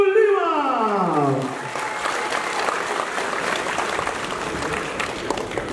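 An announcer's drawn-out voice trails off into audience applause for a mixed martial arts fighter at a ring event, with steady clapping and crowd noise filling the rest.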